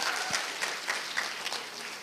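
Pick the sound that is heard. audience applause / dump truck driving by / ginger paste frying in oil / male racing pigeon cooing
audience applause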